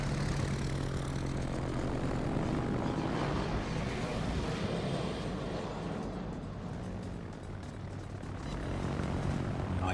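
Carrier aircraft engines drone steadily in the naval combat game World of Warships, a continuous propeller-like hum filling the whole stretch with a slight dip in the middle, no talk over it.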